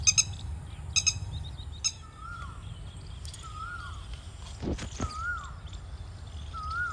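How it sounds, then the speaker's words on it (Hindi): An Asian koel calls outdoors, repeated rising whistled notes at regular intervals over a low background hum, mixed with a few sharp chirps and a brief knocking clatter. "कोयल की आवाज है"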